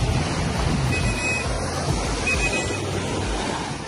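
Waves wash onto a beach at Islas del Rosario near Cartagena, a steady loud rushing surf mixed with wind noise, continuous and without talking.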